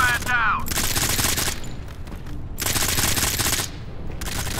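Rapid automatic gunfire from a multiplayer match of the mobile shooter Modern Combat 5, loud bursts in long sustained stretches with brief gaps, while a voice talks over the shooting.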